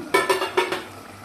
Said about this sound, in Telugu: ఇంకొకసారి మూత పెట్టుకుందాం మరి మూత తెచ్చి వద్దామండి